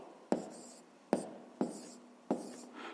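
Pen writing an answer to a fifth-grade math exercise: four short, sharp strokes with brief scratching trails, spaced unevenly and close by in a quiet room.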